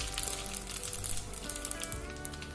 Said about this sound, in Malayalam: ഇത് ചൂടായതിനു ശേഷം അതിലേക്ക് ഓൾ സ്പൈസസും